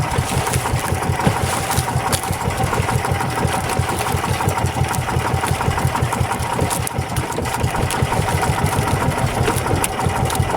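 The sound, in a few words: boat engine running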